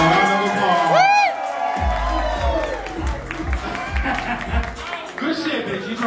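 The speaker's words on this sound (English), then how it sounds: "a round of applause" A drag ball crowd at the Cartoon Ball cheers, whoops and claps after a grand prize announcement, with loud shouts and whistles over scattered applause and an emcee's voice cutting through.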